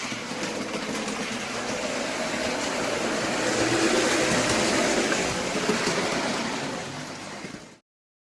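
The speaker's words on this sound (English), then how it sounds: "the loco ran smoothly and evenly in both directions, with very reasonable gearing and no stuttering or slowing down even over points" A Bachmann OO gauge model locomotive runs along the track with a steady, close whirring rumble that swells slightly midway, then cuts off abruptly at the end.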